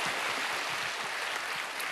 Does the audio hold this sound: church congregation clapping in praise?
yes